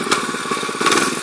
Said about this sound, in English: On his fast ass little mini bike.